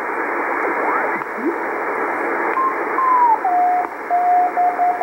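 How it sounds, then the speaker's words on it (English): A broken string of keyed Morse code tones from a 10 meter radio beacon pulses through loud static, the beeps coming in short and longer bursts near the end. "it's going to be in Morse code"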